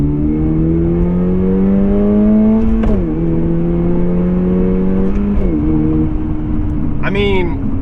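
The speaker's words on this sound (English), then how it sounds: "It has a little tone to the exhaust." A 2023 Toyota GR86 Premium idles and revs gently, its steady exhaust tone holding with harmonic bands that dip and rise through light throttle blips, close and continuous, with a brief higher whine near the end.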